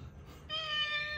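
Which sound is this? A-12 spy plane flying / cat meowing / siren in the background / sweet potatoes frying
cat meowing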